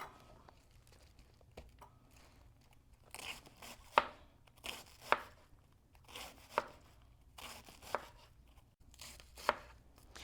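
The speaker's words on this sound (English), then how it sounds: "we're going to cut it in half again, and then we're going to thinly slice." A knife thinly slices cabbage on a cutting board for an avocado carrot coleslaw, giving a run of crisp, close chops that quicken into irregular bursts with short pauses.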